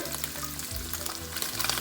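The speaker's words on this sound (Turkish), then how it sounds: "şu an e, etlerimiz kızarmaya başladı" Steady sizzling of meat frying in a hot pan, a continuous crackling hiss with soft low bubbling, close and alone.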